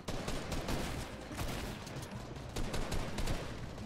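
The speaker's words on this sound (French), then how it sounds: "Je tire à droite." Rapid video-game gunfire crackles in dense overlapping bursts throughout, a steady fusillade of shots at moderate loudness with no talk over it.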